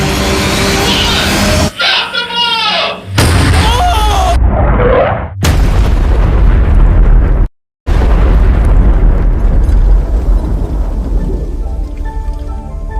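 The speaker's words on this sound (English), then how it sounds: "Using our last bit of spare fuel, the pyrotechnics quickly re-rigged the bomb." A fuel-rigged pyrotechnic bomb detonates with a loud, booming blast. A deep rumble follows and carries on for several seconds. Broad roaring noise is mixed in, and a short cutoff breaks it partway through.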